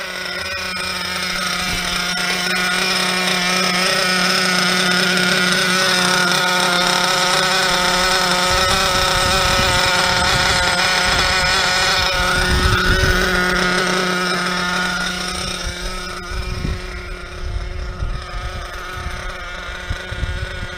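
A loud, steady nitro car engine idle in a nitro tent runs throughout with a buzzy harmonic drone, wavering slightly, with rough low rumbling bursts in the middle before settling.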